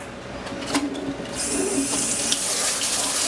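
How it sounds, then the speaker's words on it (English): Water from a kitchen spray hose pours through a strainer of cranberries, a steady hissing splash that grows brighter and fuller partway through, close and continuous with no voices. "I'm going to run my water through the strainer"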